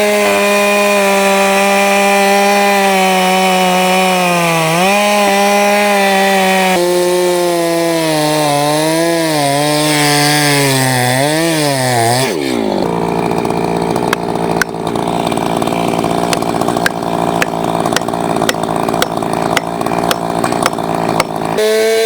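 A chainsaw bucks a large log into firewood rounds about 24 to 26 inches across, loud and close. The engine pitch climbs and falls under load for about twelve seconds, then drops into a rough, steady idle with rattling.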